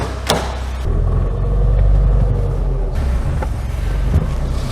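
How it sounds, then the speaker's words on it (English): A barn-find Austin Allegro's A-Series engine runs with a steady, loud low rumble close by, holding level after a brief sharp knock at the start. "Listen to that A-Series sing."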